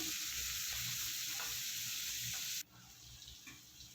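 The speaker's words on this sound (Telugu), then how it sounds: "అదేవిధంగా కొద్దిగా ఆనియన్ కూడా వేసుకొని బాగా కలుపుకుంటున్నాను." Onion sizzles loudly in hot oil with cumin, mustard seeds and whole spices while being stirred, a bright crackling hiss that drops sharply to a quieter simmer partway through.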